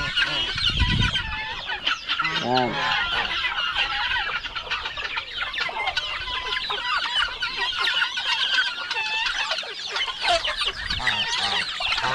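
Chickens cluck and squawk continuously, a busy flock close by on a farm with turkeys, with overlapping calls and a brief spoken word in Filipino.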